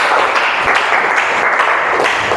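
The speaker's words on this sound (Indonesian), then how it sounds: "Tepuk tangan sekali lagi untuk semua kelompok" Dense, steady applause from a group of people in a classroom fills the whole moment, loud and close, with no voices over it.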